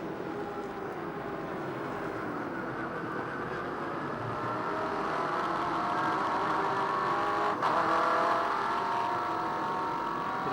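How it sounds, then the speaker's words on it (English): An NZV8 V8 race car screams through an onboard lap of Talbot Hills Raceway at Ruapuna, its engine a loud, sustained roar rising in pitch as it accelerates, with a brief gear-change blip near the end and no talk. "this is what it's like for a lap of Talbot Hills Raceway with Johnny McIntyre"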